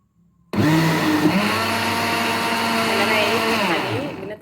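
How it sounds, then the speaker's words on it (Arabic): A blender kicks in abruptly and grinds loudly and steadily for several seconds, its motor pitch shifting slightly as it chews through dry lentils. "بنطحن يا جماعة ايه بنضرب العدس في الخلاط"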